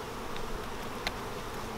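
Honey bees mill about in front of a hive that may be preparing to swarm, giving a continuous close buzzing hum with a few individual bees passing near.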